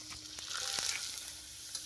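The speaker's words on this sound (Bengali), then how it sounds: "পাপড় ভাজার তেলটা আমাদের গরম হয়ে গেছে, আমরা পাপড়টা একটা একটু করে দিয়ে ভেজে নেবো।" Papad frying in hot oil in a wok: a soft, steady sizzle with a few sharp crackles and a brief bubbling hiss, quiet and close, without talk.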